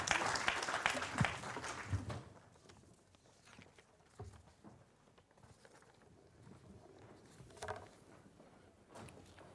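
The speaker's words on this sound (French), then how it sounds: "je vais vous proposer une dernière fois d'applaudir nos invités de cette troisième table ronde" Applause for round-table guests at a national biomass and wood-energy conference in a hall of about 350 people, a brief strong burst of clapping at the start that quickly dies away into sparse claps and room noise.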